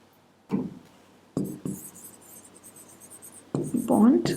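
Marker or chalk writing on a board during a chemistry lecture, a few short scratchy strokes in separate bursts, close, with a teacher speaking between them.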